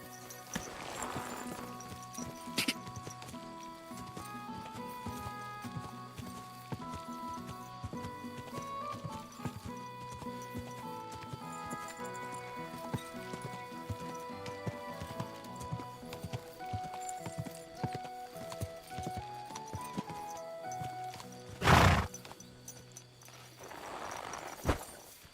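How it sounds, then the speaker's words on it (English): A horse in the video game Kingdom Come: Deliverance 2, with soft clip-clop hoofbeats under quiet game music and a sharp, brief burst near the end. "Come here, horse."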